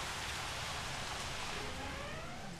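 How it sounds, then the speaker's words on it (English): Steady rain falling in the dinosaur park game Jurassic World Evolution, a soft, even hiss of light rainfall that stays constant throughout with no voices. "It's still raining a little bit"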